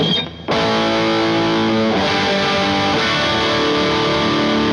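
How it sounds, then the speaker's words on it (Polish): Electric guitar played through an IRT Studio overdrive pedal, a sustained distorted chord ringing loud and thick, with fresh chord changes struck around two and three seconds after a brief silent start. "przester z IRT Studio."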